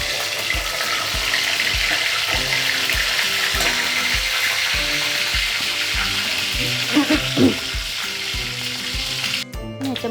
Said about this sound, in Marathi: आता आपण ह्याला फोडणी देणार आहोत. तर ह्याच्यामध्ये आपण आधी तेजपत्ता आणि दालचिनी टाकणार आहोत.